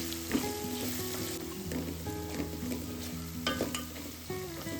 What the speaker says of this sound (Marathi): आलं लसूणची पेस्ट, चांगलं परतून घ्यायचं.